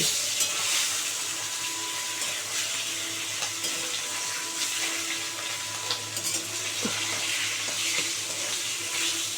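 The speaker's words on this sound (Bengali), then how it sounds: "ইলিশ মাছ আমার এত ফাটে কে জানে" Hilsa fish frying in hot oil produces a continuous broad sizzle and crackle, with scattered sharper pops and spits throughout, heard close up and without speech.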